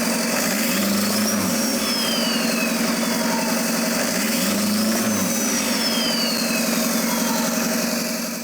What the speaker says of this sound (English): That's just like just a random misfire.